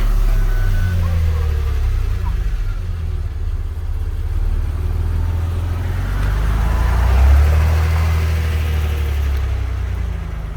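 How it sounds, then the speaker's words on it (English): A 1992 Renault Alpine GTA V6 Turbo idles after a cold start, its low engine rumble steady and close with a slight swell partway through, while someone talks over it. "This is a cold start."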